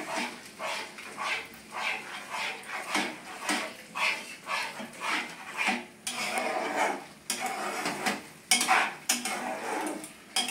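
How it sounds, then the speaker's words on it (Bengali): Pointed gourd paste being stirred in a pan to cook off its water, with repeated scraping and clinking of a spoon against the pan in an uneven rhythm, close and fairly loud, no voices. "এটাকে ভালো করে নেড়ে নেড়ে জলটাকে শুকনো করে নিই।"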